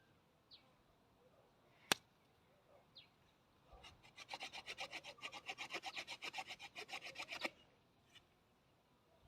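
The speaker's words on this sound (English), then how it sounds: "Now I'm going to create a dimple in it." A dimple being carved into a wooden fire-drill baseboard, heard as a close, rhythmic run of scraping, rasping strokes lasting about three seconds, preceded by a sharp single knock and faint scratches.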